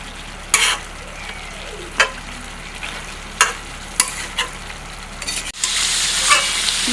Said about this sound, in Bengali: এবার আমি আরও 5 মিনিট মতো কষাবো।